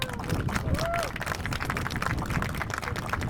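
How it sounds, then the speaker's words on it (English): An audience at a Sioux Falls community event gives the mayor a round of applause, a dense, steady clatter of clapping mixed with crowd chatter and a voice speaking over it. "Let's give another round of applause for"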